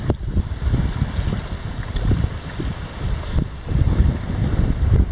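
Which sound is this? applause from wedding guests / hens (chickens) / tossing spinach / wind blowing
wind blowing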